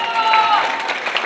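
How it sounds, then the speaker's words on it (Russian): Brief burst of clapping and crowd noise from an audience in a hall, dense and moderately loud for just over a second. "Аплодисменты!"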